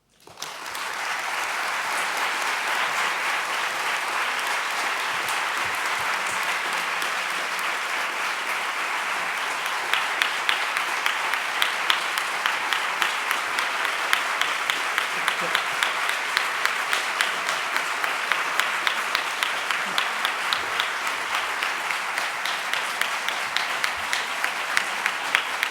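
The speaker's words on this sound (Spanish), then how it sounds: "Un aplauso más que merecido." Sustained applause from a lecture audience after a talk on health and power, a dense steady clapping texture lasting throughout, with individual claps becoming more distinct in the second half.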